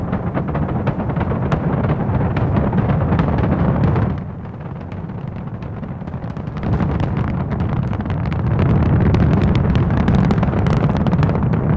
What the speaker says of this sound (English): All engines running. Commit. Liftoff.